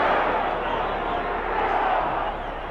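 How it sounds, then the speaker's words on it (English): A big boxing-arena crowd of about 19,000 roars and chants for Ringo Bonavena during his fight with Muhammad Ali, a dense, steady wall of voices that stays loud throughout without clear breaks. "you hear the crowd picking up the chant for Ringo now"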